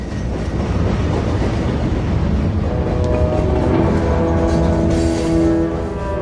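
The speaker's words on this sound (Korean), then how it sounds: "기차는 문명과는 동떨어진 황량한 지역의 강제 수용소로 향했다" A train rolls steadily along rails toward a remote forced labour camp, with continuous loud rumble and clickety-clack of wheels, and a sustained metallic wheel squeal rising in the latter half; no voices.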